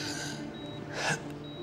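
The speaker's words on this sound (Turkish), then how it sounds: "Tamam, derin bir nefes alın." A patient takes a deep breath for a doctor, a short audible inhale that swells into a breathy rush near the end, close and clear, with no talk during it.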